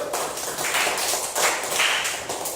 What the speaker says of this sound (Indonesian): Tepuk tangannya mana untuk kelompok 1